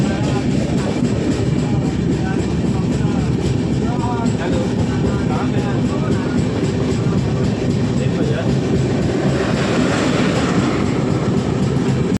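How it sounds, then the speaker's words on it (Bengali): A moving passenger train gives a loud, continuous rumble with rhythmic wheel clatter, heard close from on board for the whole stretch. "এই যে ট্রেন চলছে"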